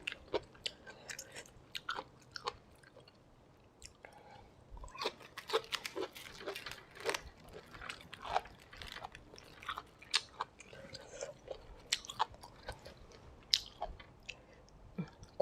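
Close, intimate chewing of tender young bamboo shoots, with irregular crisp bites and wet crunches repeating steadily at a quiet level, no talking.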